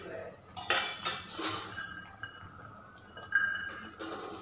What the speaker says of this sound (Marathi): झाकण झाकायचं आणि शिजवून घ्यायचं.